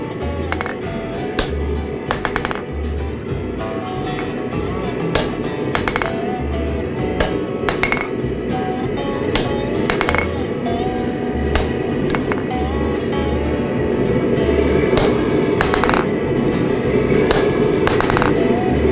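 A blacksmith strikes steel with a narrow fuller, producing a steady run of sharp, ringing metallic clinks repeating at a regular rhythm, close and clear against a low shop hum.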